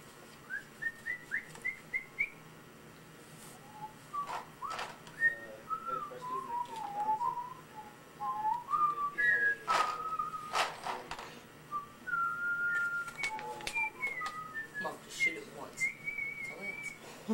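A person whistles a wandering, melodic tune during a family Christmas gathering in a house, with sliding and trilling notes and short pauses over a quiet indoor background with occasional knocks.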